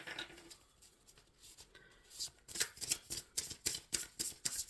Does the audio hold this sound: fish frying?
no